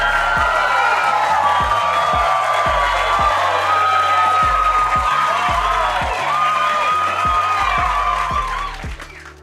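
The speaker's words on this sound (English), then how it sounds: "So everyone give Basatut a round of applause." An audience at a House of ATTON gathering gives a sustained round of applause with cheering and whoops, loud and dense throughout before tapering at the end.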